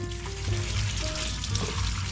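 Water from a hose rinses a UTV with its hood removed, making a continuous, close splashing and trickling as it runs through the machine, with no voices over it.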